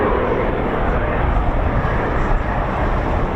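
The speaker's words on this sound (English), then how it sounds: "So the military designation for the Dakota is a C-47, although based on its civilian DC-3." A Douglas Dakota C-47, the military version of the DC-3, flies past with a loud, close, steady drone of piston engines filling the whole moment.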